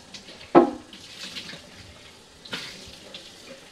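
Tap water runs quietly over the parts of a BEAR baby food maker being rinsed in a sink, with a sharp clack of a plastic piece near the start and another knock later.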